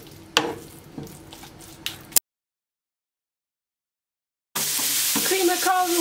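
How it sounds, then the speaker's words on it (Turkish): Minced beef sizzling in a hot pan alongside a few sharp scrapes and clatters of a utensil, then a break of silence before a louder, denser frying hiss returns with bubbling crackle. "200 gram kıymayı tavamın içerisine alıyorum. Kıyma suyunu salıp çekene kadar pişireceğim."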